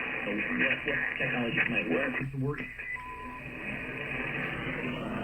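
A distant AM radio broadcast on 1170, full of hiss and static, with a voice fading in and out and a whistling tone sweeping through the noise.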